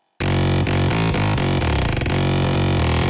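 High bass and sub bass synth layers stacked in Reason for a remix, blasting a loud, dense, full-range riff of steady repeated chords that runs on without a break and with no talking.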